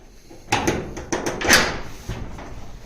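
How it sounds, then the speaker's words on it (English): An old door in a storage space being opened, with several sharp knocks, scrapes and a creaking, rattling impact at close range, followed by quieter shuffling. "Let's open this door."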